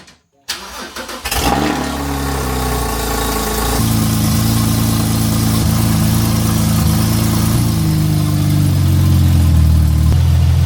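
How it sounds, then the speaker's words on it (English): A Porsche GT4 with a new titanium Valvetronic exhaust cranks briefly, fires up loudly after a short silence, then settles into a steady, deep idle that holds close and constant with no talking. "I don't know if I've ever been more excited for a first startup with a new exhaust"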